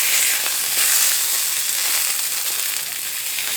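Italian sausages sizzle loudly in a frying pan as they are turned, a dense, continuous bright hiss with faint crackles, close and steady with no voices.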